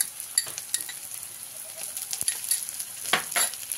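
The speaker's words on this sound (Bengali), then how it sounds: "আদা রসুনটাকে একটু ভালো করে ভেজে নেব।" Ginger-garlic paste fries with browned onions in a pan, giving a continuous close sizzle broken by scraping stirs and light clinks of a spatula against the metal.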